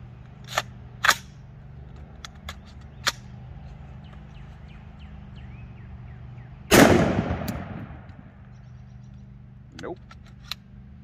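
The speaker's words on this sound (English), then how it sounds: "let's go ahead and put one in the chamber and see if we can get 5 shots out of it in a row" A single loud, close rifle shot from a Ruger SFAR AR-308 with a long decaying echo, set among sparse mechanical clicks and handling noises. The rifle fails to feed a second round.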